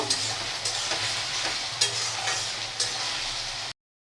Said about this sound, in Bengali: আলুটাকে একটু লাল করে ভেজে নেব